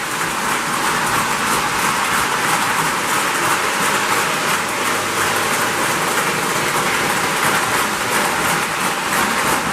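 A steady rumbling whir of an O gauge model train running continuously on track, even and unbroken, with a constant hiss throughout.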